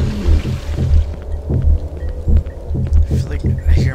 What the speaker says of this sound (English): I feel like I hear my heart pounding.